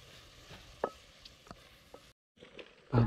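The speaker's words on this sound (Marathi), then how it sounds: "आता बघूया मित्रांनो आपल्याला मीठ मसाला टाकून झालं आणि आता चमच्याने आपण हलवून वगैरे मस्त एकजीव करून घेऊया" Tomatoes frying with salt and spice masala in a village outdoor cooking pot, giving a soft steady sizzle broken by a few scraping spoon strokes and clinks as the mixture is stirred, close by.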